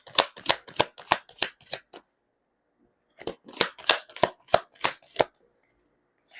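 Tarot cards being shuffled in two bursts of quick, crisp riffling, each made of six or seven sharp papery slaps in a steady rhythm, split by a short silence, close and clear with no voices.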